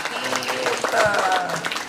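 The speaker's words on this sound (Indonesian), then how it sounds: "maka tepuk tangan dong untuk santri" An audience applauds students at an Islamic boarding school with a steady wash of clapping, partly under a speaking voice.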